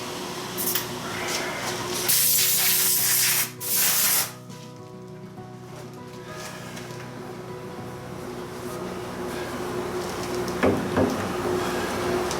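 Deburring a metal part for a Harley Twin Cam coffee table produces harsh, hissing grinding bursts up close, then a quieter stretch of rubbing and scraping under a steady background hum.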